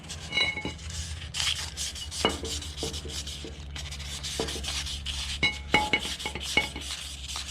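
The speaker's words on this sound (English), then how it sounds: "We're just gonna polish that surface just a little bit." Hand polishing of the metal seal surface on a Volkswagen Type 1 engine before a new main seal is fitted: close, uneven rubbing and scraping strokes with sharp metallic taps and clicks between them.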